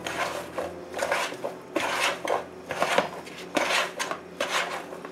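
Asparagus spears tossed in a bowl with melted vegan butter and olive oil, giving repeated scraping, clinking strokes in an uneven rhythm, close and moderately loud.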